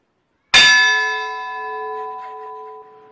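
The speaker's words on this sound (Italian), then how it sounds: "la comunità di Trieste ha regalato alla comunità di Fertilia un complesso di 5 campane che suonano a distesa" A single bell from the five-bell set in the Fertilia bell tower strikes once after a brief silence, a loud close clang that leaves a long ringing hum fading slowly, with no voices.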